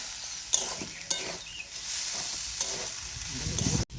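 Spiced vegetable roll filling stirred in a hot pan, a continuous sizzle broken by spatula scrapes and clinks against the metal, close and fairly loud; no talking.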